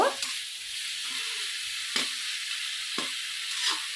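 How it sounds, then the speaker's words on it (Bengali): Spice paste for a pointed gourd and prawn curry fries in a pan with a steady close hiss, punctuated by several spatula scrapes and knocks at roughly one-second intervals. "এবারে আমি মশলাটাকে কষিয়ে নেব"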